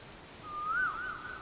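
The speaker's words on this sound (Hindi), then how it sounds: "ये तो कोयल की आवाज है।" A koel calling outdoors, one clear whistled note rising and bending in the middle and then trailing off, heard alone and fairly faint over quiet background noise.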